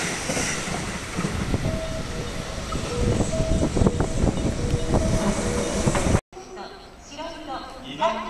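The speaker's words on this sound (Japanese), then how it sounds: "電車が通過いたします。" A JR West 281 series Haruka limited express roars through Zeze station with a loud, sustained rumble and rhythmic clatter of wheels over rail joints, then cuts off abruptly, followed by a station announcement voice.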